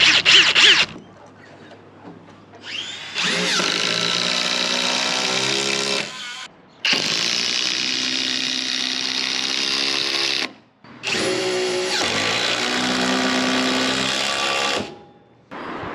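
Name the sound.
AEG cordless impact driver driving screws into roof battens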